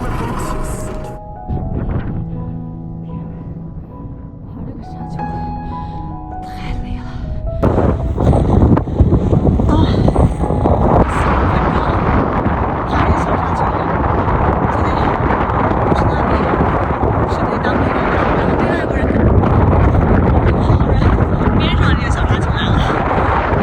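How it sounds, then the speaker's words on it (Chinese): Wind blows over sand dunes in the Namibian desert near Walvis Bay, buffeting the microphone with a loud, continuous rushing roar that takes over after a quieter musical opening. "风吹过沙丘，将细沙推涌成一层一层浪潮"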